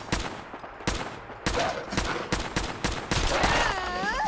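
Assault rifle gunfire in Fallout 4: sharp single shots and short bursts at an uneven pace, close and loud, with a ringing, wavering tone rising behind the later shots.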